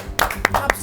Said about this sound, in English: I think we should do a huge round of applause for Wind Wolves